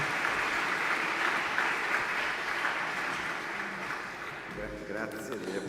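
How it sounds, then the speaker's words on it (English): A forum audience giving a big round of applause, a dense steady clapping wash that fades toward the end as a voice begins speaking. "Thank you very much for this big round of applause"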